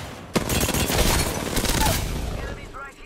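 Rapid automatic gunfire from an Apex Legends firefight, loud and close with a sharp crack at the start and dense overlapping bursts that fade toward the end.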